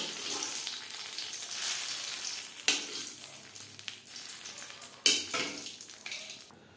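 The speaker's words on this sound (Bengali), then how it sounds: "ফোড়ন দিয়ে দেব ডালে।" A hot spice tempering hisses loudly into masoor dal cooked with bottle gourd, a close sizzle that swells and fades, with two sharp bursts as more seasoning hits the pot.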